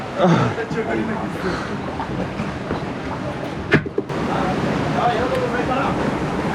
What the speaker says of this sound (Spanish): Eso es una lancha de pescador, mi amor.